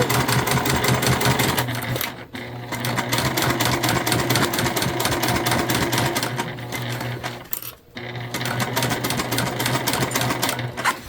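A sewing machine runs in fast, steady bursts while back stitching a fabric pouch, its rapid mechanical needle clatter loud and close, stopping briefly twice before resuming.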